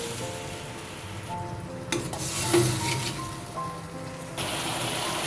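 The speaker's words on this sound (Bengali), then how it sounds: "মশলা থেকে তেল ছাড়তে শুরু করলে মশলার বাটি জল দিয়ে দিচ্ছি।" Water poured into frying spice paste of ground pepper and coriander, for a papaya and potato curry with prawns, brings a sudden burst of sizzle and bubbling mid-clip that fades back to a steady hiss under light stirring.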